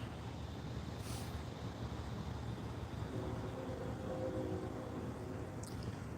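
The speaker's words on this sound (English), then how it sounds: "I think this is the third train we've had in 20 minutes." A low, steady rumble of a train passing at a distance, with a faint hiss of brakes, continuous throughout.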